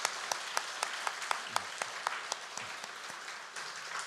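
A Sunday church congregation applauds middle and high school students and young adults, a quiet, steady ripple of many hands with a few sharper claps standing out at a distance.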